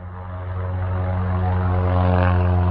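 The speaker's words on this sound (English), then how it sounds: "Oh, here we go. Here's a plane." A small plane flies overhead near a small community airport, its propeller engine droning steadily and growing slightly louder over a few seconds, with no talking.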